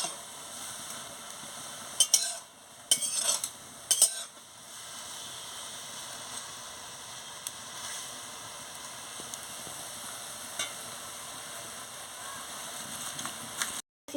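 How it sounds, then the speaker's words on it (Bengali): Kalmi greens (water spinach) stirred in a pan, with quiet scraping and clinking of a utensil against metal over a soft sizzle. A few louder knocks come early, then steady low hiss. "ভালো করে শাকটাকে নাড়িয়ে নিচ্ছি"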